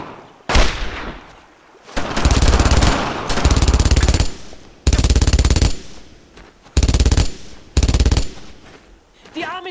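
Bursts of automatic gunfire from a World War II squad shooter, Brothers in Arms: Road to Hill 30, rattle in several loud sustained volleys separated by short pauses, with no speech over them.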